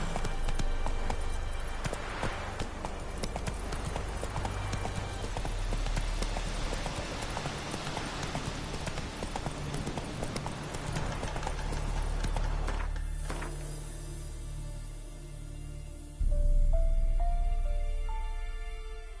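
Roach the horse galloping in The Witcher 3, rapid close hoofbeats over a dense game soundscape for about thirteen seconds, then the gallop cuts off into quieter ambience.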